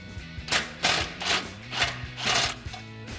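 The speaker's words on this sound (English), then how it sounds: "So we'll take that 16mm socket to remove our first bolt." Ratcheting socket wrench loosening a 16mm bolt on a Jeep Gladiator JT, with several rapid clicking bursts in an irregular rhythm, close and fairly loud, and no talking.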